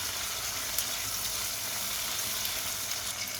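Steady sizzling of tomatoes dropped into onion and garlic frying in a pan for beef sinigang, a dense continuous hiss heard up close with no talk.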